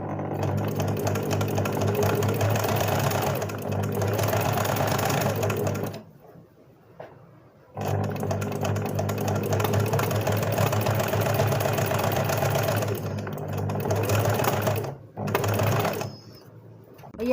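A sewing machine embroidering straight lines runs in long, loud, steady mechanical bursts, its rapid needle rhythm stopping briefly twice before starting again, close up with no voices.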